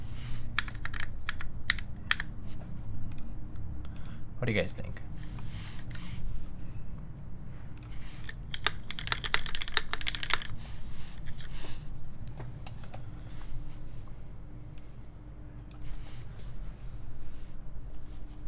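Rapid clicky typing on a mechanical keyboard, uneven bursts of keystrokes close by, with a brief spoken question partway through.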